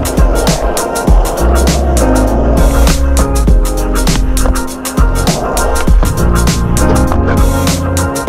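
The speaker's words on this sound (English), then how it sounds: "It's a fucking challenge to do an ollie up there." Skateboard wheels roll and clack loudly at a skate spot during an ollie attempt, with repeated sharp board impacts and grinding over a steady rumble, close to the microphone.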